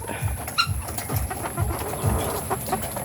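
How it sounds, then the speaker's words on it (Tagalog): Several chickens, startled by firecrackers, cluck in quick, agitated bursts close by, with occasional higher squawks over a low background hum. "Ang mga manok ay nagugulat."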